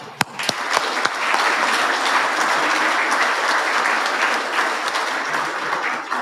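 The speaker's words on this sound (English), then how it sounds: "Round of applause to you, to your families" Guests at an ammunition-industry awards dinner break into applause, a few sharp individual claps at first, then settling into a full, steady wash of clapping that continues evenly to the end.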